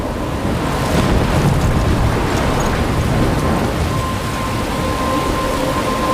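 Stormy weather in the video game Life is Strange, a loud, constant roar of wind and rushing rain with a low rumble of thunder underneath, steady throughout.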